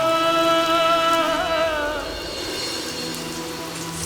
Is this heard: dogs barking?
no